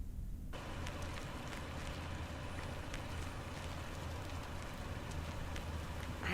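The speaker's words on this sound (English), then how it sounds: "It's been raining a lot lately." Steady rain falls in the video game Lake, a constant hiss of drops with faint patters, even and unbroken throughout.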